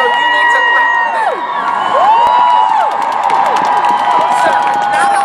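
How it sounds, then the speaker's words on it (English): At a Women's March rally crowd in Lansing, Michigan, a crowd cheers and whoops loudly with many overlapping high shouts, while clapping mixes faintly into the steady roar. "And so you need to clap for that."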